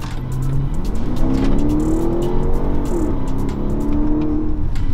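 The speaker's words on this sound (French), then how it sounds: "une petite pression sur la pédale d'accélération, le V8 nous catapulte" A BMW X7 M50i SUV's V8 engine pulls hard under acceleration, its deep note climbing in pitch through a gear change around the middle, loud and close from inside the car, with no talk over it.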